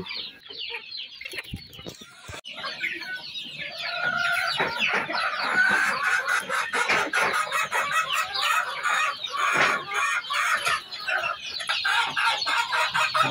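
Chickens, a rooster among them, cluck busily and steadily at close range, with a crow rising through the dense flock chatter for about thirteen seconds and no talking.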